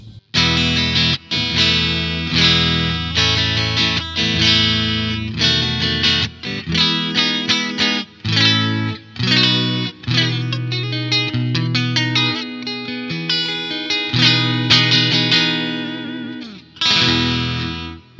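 Electric guitar with effects, a Lavish Merisandre 2022 Model on its middle single-coil pickup alone, played solo in a steady run of chords and picked notes with short pauses, bright and slightly chorused.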